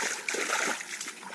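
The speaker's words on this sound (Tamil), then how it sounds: "நேற்று பேஞ்ச மழையில் வருது பாருங்க தண்ணி கம்மாக்கி." Rainwater from the previous day's rain rushes and splashes steadily nearby, a continuous bright watery wash with small irregular spatters throughout.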